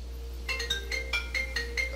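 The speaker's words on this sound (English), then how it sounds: "everybody's ringtone from 2014" A phone ringtone popular around 2014 plays a bright, repeating melodic pattern of quick tones over a steady low hum, loud and close with no voices.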